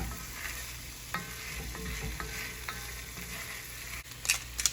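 Diced pears hitting a deglazed pan of prosciutto and sage risotto base, with a steady close sizzle and frying crackle, a few stirring scrapes and brief utensil clinks near the end.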